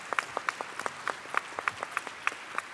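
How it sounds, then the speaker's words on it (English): An audience at a conference gives the rapporteurs a round of applause: sparse, fairly faint claps from a modest crowd in a steady rhythm, with no talking. "for the audience to give them a round of applause"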